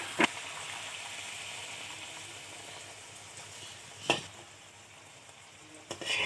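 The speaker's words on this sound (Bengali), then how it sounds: "এবার আমি লেচিগুলো এক এক করে ভেজে নেব।" Kachori dough balls fry in hot oil in a kadai, a steady soft sizzle running throughout, with a few sharp splashy crackles as pieces go in.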